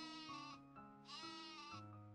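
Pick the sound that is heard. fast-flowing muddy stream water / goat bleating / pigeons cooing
goat bleating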